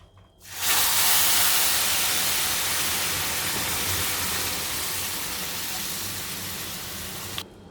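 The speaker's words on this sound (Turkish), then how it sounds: "Şimdi şerbetini dökeceğim." Syrup poured onto hot, well-roasted semolina halva with cheese sets off a loud, steady sizzling hiss that starts abruptly, holds for several seconds and slowly fades before cutting off.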